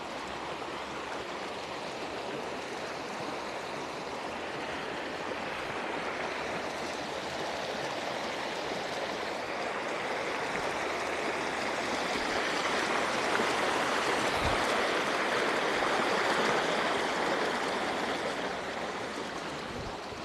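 A river near a waterfall at an old hacienda in San Diego Apatlahuaya, Tlaxcala, rushes in a steady, dense wash of flowing water that swells slightly partway through, continuous and close with no voices.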